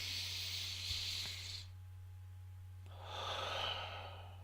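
A single deep breath comes close and soft, a long airy inhale, then a short pause, then a slow exhale, with no talking.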